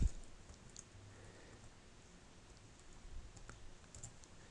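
Quiet keystrokes on a computer keyboard tap in scattered bursts while a code is entered into an online traffic-fine lookup form, faint and close with no talk.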